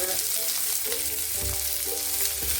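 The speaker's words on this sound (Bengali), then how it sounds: "তেলটা গরম হয়ে গেছে এখন এই মশলাগুলো ভেজে নেবো" Onion, coconut, garlic, ginger and green chili fry in hot oil for a mixed vegetable dish, giving a steady close sizzle with a few scraping stirs and no talk.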